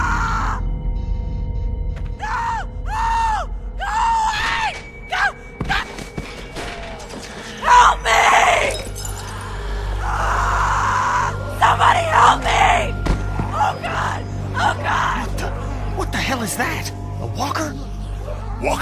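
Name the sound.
girl screaming in The Walking Dead video game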